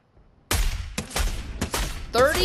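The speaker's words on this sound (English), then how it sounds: "I don't know where they're shooting from." Several loud, sharp gunshot bursts from an automatic sniper rifle in a video game follow quick silence, arriving at short irregular intervals, with a ringing metallic ricochet-like tail at the end.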